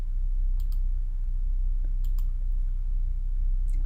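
Computer mouse clicks while working in Dreamweaver CC 2020, a few sharp, close clicks spaced irregularly over a low steady hum, no talking.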